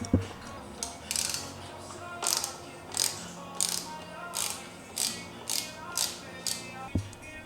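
Socket ratchet working a 10mm bolt on a Ducati Monster motorcycle clutch lever, giving a steady series of quick clicking ratchet strokes, close up under a constant background hiss with no voices.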